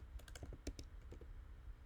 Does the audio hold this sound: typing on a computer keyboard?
yes